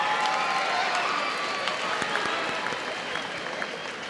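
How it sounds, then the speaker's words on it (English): Sustained audience applause for graduates at a 2018 college graduation ceremony, a dense wash of clapping with faint cheering that fades slightly toward the end. "And let's give our ODU graduates another round of applause."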